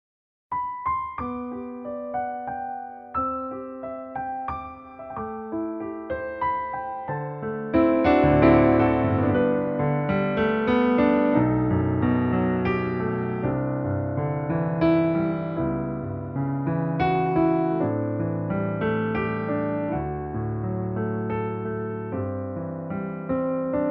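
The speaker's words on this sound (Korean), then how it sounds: "설정되어 있는 피아노는 CFX라는 이제 피아노 소리인데요" A Yamaha CP4 Stage synthesizer plays its CFX ST acoustic piano voice, a bright, clear grand piano tone: a sparse melody opens, then fuller, louder chords and runs ring on with sustained decay, with no talking.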